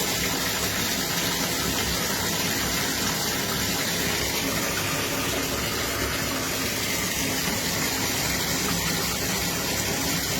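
Water from a tap gushes loudly and steadily into a bathtub, with a bubble bar held in the flow to make bubbles. The rush is continuous and close, with no talk.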